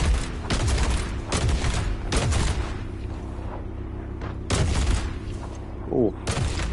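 Bursts of gunfire in a Fortnite match come as rapid volleys, several separate loud clusters with short gaps between them, over a low game background.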